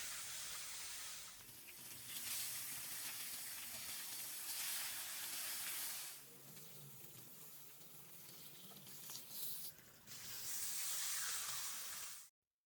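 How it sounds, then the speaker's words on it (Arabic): Marinated fish frying in a pan of hot oil, giving a steady close sizzle and hiss that swells and dips in waves for over ten seconds. "ورا نص ساعة تقريبا من التتبيل راح أبدي بقلي السمك."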